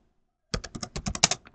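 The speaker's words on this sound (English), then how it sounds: "go back into your MySQL command prompt and then type in the command" Quick burst of computer keyboard typing on a PC, about a dozen crisp close keystrokes in fast succession after a moment of silence, ending with a firmer key press.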